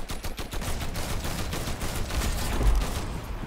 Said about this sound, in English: I'm putting down covering fire.